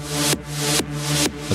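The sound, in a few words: Omnisphere synthesizer sequence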